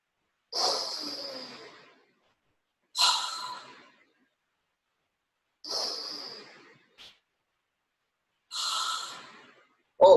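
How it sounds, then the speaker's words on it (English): Four slow, deep breathy exhales during a children's circle time, each lasting about a second and spaced evenly a few seconds apart with silence between, plus a brief sniff-like snort and a final sharp breath. "That was a good exhale"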